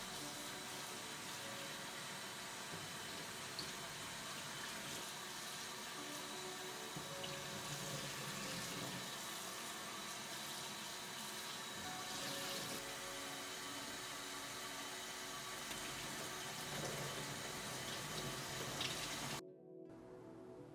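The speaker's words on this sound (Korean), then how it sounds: "색이될 때까지 흐르는 물에 헹굽니다." Chestnuts in their inner skins, simmered earlier, rinsed under a running kitchen tap; a steady, fairly close rush of water runs for about 19 seconds, then cuts off abruptly.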